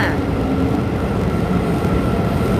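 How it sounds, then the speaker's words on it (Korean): A local train in Kaohsiung, Taiwan gives a steady, loud rumble from beginning to end, with constant low-end roar and no clear breaks. "이지카드로 간단하게 탈 수 있는 로컬 기차를 타러 왔고요"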